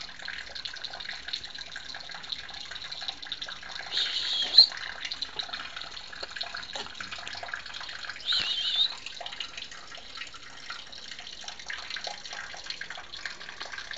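A thin stream of water runs steadily from a laundry tank spout as a cat drinks, a faint, even trickle with two slightly stronger splashing surges along the way and no talk.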